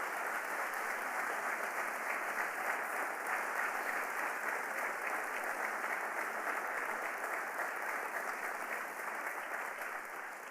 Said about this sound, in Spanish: Dale un fuerte aplauso a tu Señor por eso.